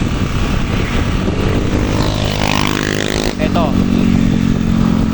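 Many motorcycles roar past during a junior men's road race, a loud, continuous engine drone with pitch sweeping as they pass close by, while someone speaks over the noise.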